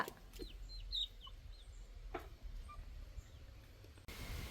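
Chickens cluck faintly in a quiet setting, with a few short, scattered calls over soft background noise.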